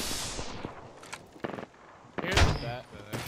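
Shooter video game gunfire: several sharp shots and short bursts crack out at varying distances, a louder cluster near the end, while players talk between them.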